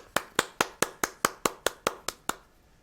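A single pair of hands claps eleven times in an even, brisk rhythm, each clap sharp and close, then the clapping stops, leaving quiet.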